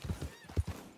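Horse hooves clip-clop in a Western video game, a few loud, close, uneven thuds over about a second, with a faint whinny-like tone and no speech.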